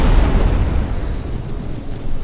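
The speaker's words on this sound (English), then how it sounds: "firing their own cannons back at us" Cannon fire roars during a fortress siege in Empire: Total War, heard as a loud, dense, rumbling barrage of booms that fades slightly and then builds again, with no talking.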